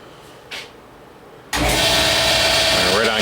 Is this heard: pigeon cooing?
no